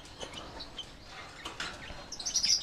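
A chick from a PB Vio split Biola x Biola Euwing Blue pair gives thin, high chirps that grow louder and quicker toward the end over soft handling noise.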